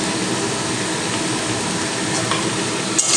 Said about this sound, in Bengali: এখানে আমি একটু পেঁয়াজ দেব কাটা পেঁয়াজ